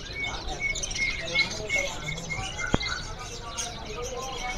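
Canaries at a bird market chirp and tweet in quick, scattered calls, with a busy background murmur of voices and market noise around them.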